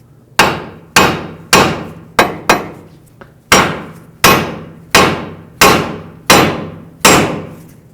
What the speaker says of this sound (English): with a hammer right here, that's going to break the tie rod free from the knuckle